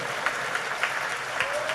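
A church congregation claps hands together in a steady rhythmic beat, a broad crowd of clapping with faint voices underneath.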